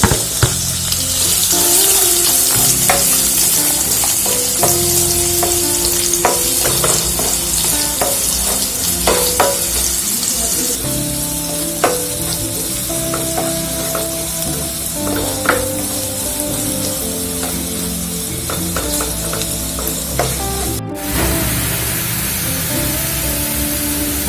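Finely chopped onion frying in oil with mustard seeds and cumin, a loud, constant sizzle with frequent crackling pops and spatula stirring, and faint background music, over a long stretch.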